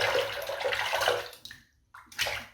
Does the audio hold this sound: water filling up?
yes